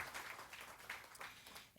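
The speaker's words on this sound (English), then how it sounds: "Let's give them Steve Rashid and his beautiful wife a round of applause" Audience applause in the Studio 5 venue, a steady wash of clapping at moderate distance. It runs the whole short stretch, with a few louder bursts, and no voice rises above it.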